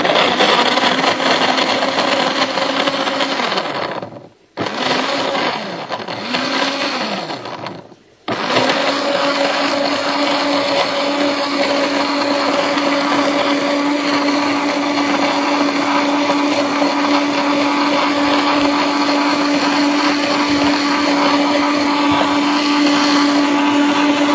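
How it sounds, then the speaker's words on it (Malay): A blender runs loud and steady while blending a milk drink, with two brief cut-outs near the start before the motor whirs on continuously. "kita tekanlah blender"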